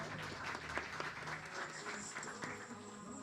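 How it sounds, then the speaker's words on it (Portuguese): Applause from a seminar audience welcoming speaker Bruna Spirandelli to the stage, a faint, steady patter of many hands clapping without voices over it. "Palmas para ela"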